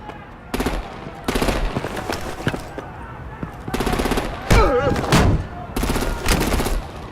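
Bursts of rapid machine-gun fire come in several separate loud volleys during a Batman: The Enemy Within combat scene, with heavier booms mixed in and a voice speaking between the bursts.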